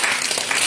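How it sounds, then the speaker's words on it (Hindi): Short burst of audience applause at a school quiz event styled after Kaun Banega Crorepati, held at GPS Bagaiha in December 2019. It comes as a dense, steady patter of many hands clapping, with no voices over it. "चलिए जोरदार ताली बजाइए"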